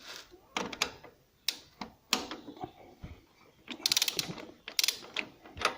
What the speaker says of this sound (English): So first I'm just going to use my ratchet spanner set here.